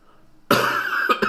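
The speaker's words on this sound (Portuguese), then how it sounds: "Peço perdão aí pela tosse no meio da palavra" A single harsh cough bursts out abruptly from a man with sinusitis, followed by a short second catch, loud and close with no talk.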